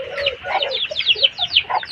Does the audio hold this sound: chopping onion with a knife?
no